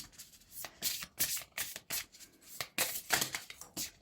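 Oracle cards are shuffled close up by hand, a run of quick papery riffles and slides in uneven bursts, fairly quiet and without speech.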